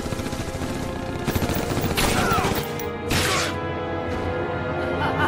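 Rapid bursts of gunfire in the Hellsing Ultimate anime, machine-gun volleys crackling loud and dense with crashing impacts throughout, under a continuous battle din.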